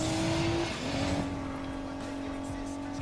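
A souped-up car in the racing game Need for Speed Payback, rebuilt with all parts replaced, roars as it accelerates: a loud, steady engine drone that rises briefly, with a hint of tire squeal.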